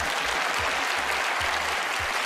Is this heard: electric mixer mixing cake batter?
no